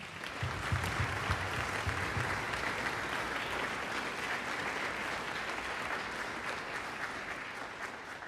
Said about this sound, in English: So a huge applause to anyone that is working behind the scenes.